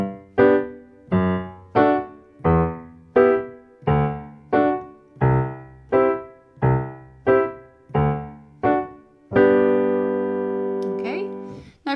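An Irish piano tune plays its descending run through to the end: a steady series of evenly spaced, struck chords that closes on a long ringing final chord, with a brief noise as it cuts off.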